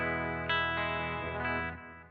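A clean electric guitar plays through a 180-watt Fender Twin Reverb amp on its 4-ohm tap, ringing out a few sustained chords that overlap and slowly fade, with no talking.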